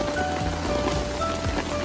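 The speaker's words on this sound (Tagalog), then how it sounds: "Ang lakas ng ulan." Heavy rain pours down at Quayside on Sentosa, a dense close roar of drops drumming on surfaces with a low rumbling undertone, continuous and fairly loud with no talking.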